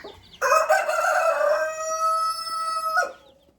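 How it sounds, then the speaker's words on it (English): A chicken in a backyard flock with a broody hen and hatchery chicks lets out one loud, drawn-out, close-range call lasting about two and a half seconds, then falls silent, with no talking. "let's go check on our hatchery chicks that we put underneath our Broody Momma"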